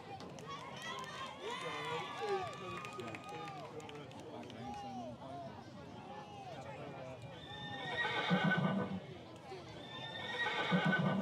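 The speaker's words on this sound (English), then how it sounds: "They just hit us with a horse sound effect." A horse neighing sound effect blares over the public address at a middle school football game, with repeated whinnies and galloping hoofbeats, followed by louder crowd noise swelling toward the end.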